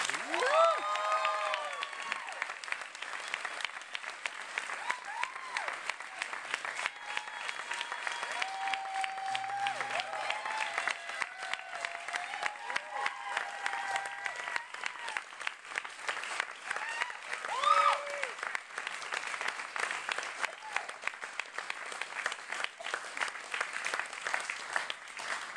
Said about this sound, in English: Let's give a round of applause to the kids that are watching.